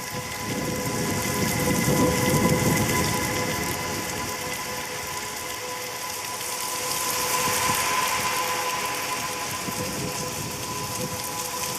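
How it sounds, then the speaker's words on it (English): Rain recorded on a phone and heavily processed into ambience, a steady wash of hiss and patter with faint tonal hum, continuous and fairly loud with no talk. "I basically took this rain sound I recorded and I did a lot of stuff to it."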